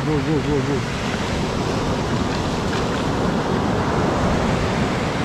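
Ocean waves break on the shore at a surfcasting fishing event, a loud continuous wash of surf mixed with wind noise on the microphone, and a brief voice or tone at the start.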